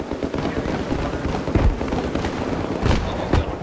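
Mortar shell blasts in a 12v12 Grand Bazaar match of a military shooter game, heavy booming bursts around 1.6, 2.9 and 3.4 seconds over a constant noisy battlefield rumble.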